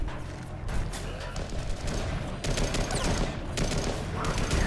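Rapid gunfire crackles in a video game match, a dense, near-continuous fusillade of shots that swells and fades in bursts.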